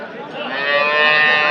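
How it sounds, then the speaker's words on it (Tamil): A native breed cow lows loudly at a Sunday cattle market in Anthiyur, one long, close moo that swells and holds steady with no voices over it. "நாட்டு மாடு கொண்டு வந்துருக்கீங்க"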